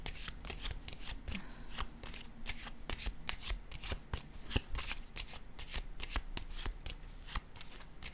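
Tarot-style cards are shuffled and handled during a card reading, producing dense, rapid riffling and snapping close up, with sharper taps as cards are set down.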